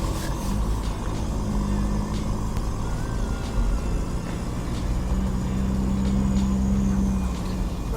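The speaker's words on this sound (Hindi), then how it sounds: "बहुत फिसल रही है गाड़ी पीछे से।" A 4x4 with tyre pressure around 25 drives in two-wheel drive on an icy, snow-covered mountain road, rear end slipping. The steady engine and road rumble stay close and continuous throughout, with a brief higher whine rising near the end.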